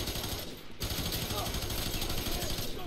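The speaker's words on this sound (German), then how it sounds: "Ein ganzes Magazin verballert, ohne ihn wirklich getroffen zu haben" Video game gunfire from F.E.A.R. 3 comes as dense bursts of rapid automatic shots that run almost continuously, loud and close, with a brief dip partway through and possible game voices mixed underneath.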